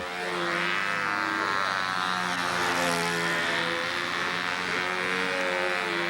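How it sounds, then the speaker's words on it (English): A model U-control B-25 airplane's engine drones continuously, loud and close, a rich harmonic buzz that wavers gently in pitch as the plane circles, with no talk. "It sounds like the motor runs pretty well too."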